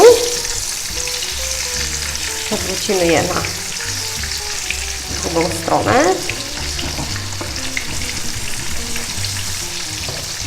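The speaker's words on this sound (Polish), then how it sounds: "Banany już nam się ładnie smażą." Steady crackling sizzle of bananas deep-frying in hot oil, with brief utensil clatters and a short spoken remark over it.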